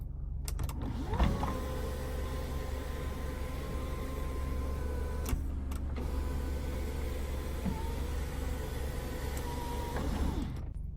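An electric motor whirs steadily for several seconds as a car's sunroof slides, with faint mechanical creaks and clicks at the start and end.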